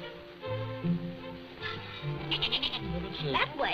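A goat bleats in a 1937 film scene, with a few wavering calls rising out of people talking and background music, moderately close and partly masked by the voices.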